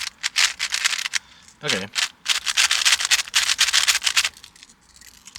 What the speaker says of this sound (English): let's do some first turns